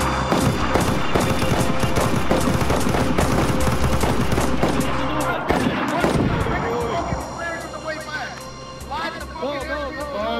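Dense bursts of automatic gunfire from soldiers in the video game DayZ, loud and rapid in the first half, then thinning to scattered shots under voices as the firing tapers off.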